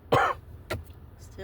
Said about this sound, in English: And I'm still coughing.